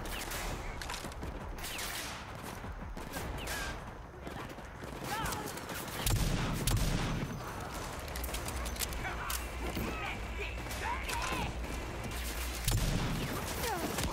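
Heavy-hitting Magnum pistol in Rage 2 firing a few separated, punchy shots with low booming thumps amid combat noise, while someone talks over the action.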